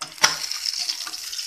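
Fish deep-frying in hot oil gives a steady, close, bright sizzle that stays loud throughout, with a brief clatter of a utensil near the start and no talk.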